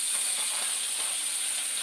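Bacon frying in a pan in a home kitchen for a Sunday breakfast, a steady bright sizzling hiss that holds evenly throughout, close and continuous with no talking.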